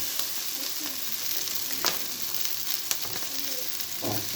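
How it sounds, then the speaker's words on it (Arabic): Onions frying in a pan, a steady close sizzle with occasional light scrapes and clicks of stirring, no talking. "ادي يا حبايبي بحمر البصل اهو."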